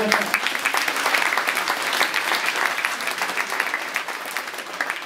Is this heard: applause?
yes